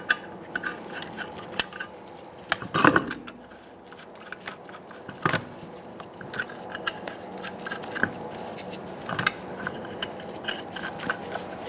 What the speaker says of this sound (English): Set our lug nuts by hand.